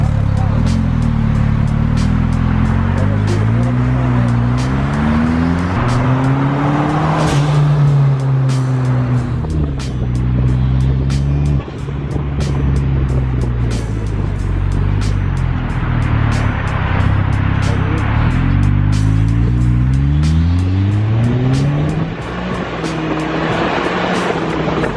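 A Bugatti Chiron engine roars loudly while driving, its pitch rising and falling through repeated acceleration and gear changes, with steady road and wind noise throughout and a voice talking over it.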